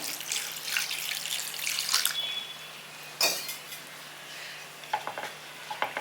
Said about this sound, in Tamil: தண்ணி வந்து முழுகிற அளவு விட்டுக்கிறேன்